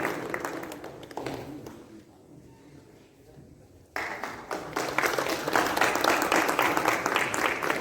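An audience claps at a Kannada theatre performance of the play Bahubali Vijayam in Sirigeri. Scattered clapping at first dies down briefly, then swells into dense, sustained applause from a full house.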